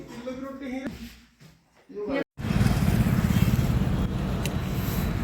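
A motorcycle engine starts up right after someone speaks and a brief pause, then settles into a steady, loud, rough running noise that continues to the end.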